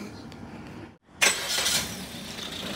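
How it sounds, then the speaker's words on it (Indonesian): Engine of a used 2021 Suzuki Baleno facelift hatchback, heard up close: a steady low hum that cuts out briefly, then comes back with a short surge and settles into an even idle. "Ini suara mesinnya, halus, standar, normal,"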